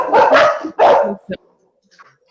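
Dogs bark in a quick burst of several loud, close yaps, then fall quiet apart from a couple of faint sounds.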